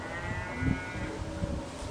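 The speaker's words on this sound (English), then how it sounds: "if you're hearing any cows, they weaned calves last night" Cows on a farm holler for their weaned calves, drawn-out lowing calls in the distance beneath steady wind and ambient noise, with no voices.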